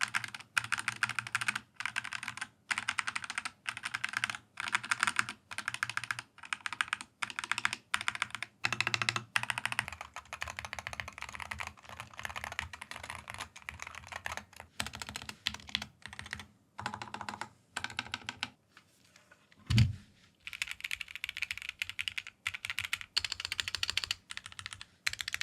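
Rapid keystrokes on a budget plasticky 65% or 75% mechanical keyboard with tray-mounted shock absorption, clacking in steady bursts with short pauses and a single heavier thump near the end, close and alone with no voices.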